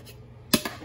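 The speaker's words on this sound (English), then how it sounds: "I'm gonna go ahead and just loosen up the sides with my spoon." A metal spoon knocks against the sides of a pan while loosening peach cobbler monkey bread. Three quick, close clinks come after a near-silent start.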